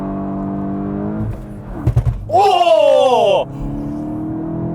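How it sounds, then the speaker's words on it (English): A 2022 VW GTI spins its tires in a burnout with wheel hop, rising as a loud revving tire screech for about a second, followed by a sharp exclamation; engine idle and brief talk surround it. "So I did a burnout and then I got a wheel hop."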